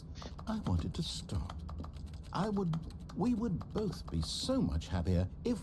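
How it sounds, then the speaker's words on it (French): Rapid clicky key presses in The Stanley Parable Ultra Deluxe patter throughout while a person talks over them, the clicks light and close. "J'adore quand on clique, ça fait des bruits de touche. Ça fait des bruits de clavier"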